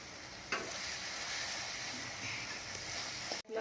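Green chillies sizzle and crackle steadily in hot oil for a chilli-and-coconut kharda, with a brief clatter of stirring near the start and a sharp knock just before the end.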